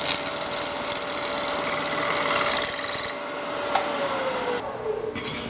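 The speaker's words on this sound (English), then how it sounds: "I've scraped it dead flat with a straight edge scraper" A wooden glue block spinning on a woodturning lathe while a straight edge scraper flattens its face, giving a steady, continuous high scraping whine with motor hum that drops off partway through.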